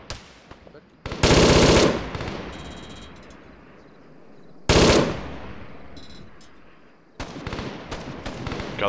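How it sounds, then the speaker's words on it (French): A machine gun in Arma 3 fires three loud, sustained bursts, each trailing off into a long echoing decay through the forest. Faint game ambience fills the gaps between bursts. "j'ai ma MG qui tire"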